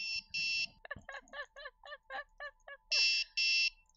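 A loud electronic anti-intrusion alarm buzzer blares in two paired bursts, with a voice chattering in a rapid, bird-like cadence between them.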